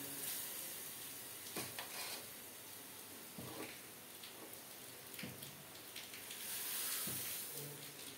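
Red lentils and drumstick pieces hitting a hot tempering of five-spice and reddened onions give a faint, crackling sizzle like light rain, with a few sharper pops along the way.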